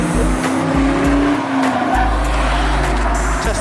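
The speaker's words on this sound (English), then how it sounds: "Tesla's quick. Hear that" A Tesla speeds along a race track, its loud, steady motor noise carrying through with a brief tire squeal and the roar of other cars close by.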